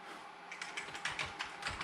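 Rapid, irregular clicking of a Commodore Amiga 500 Plus keyboard's keys being pressed, fairly quiet and close, with no talking.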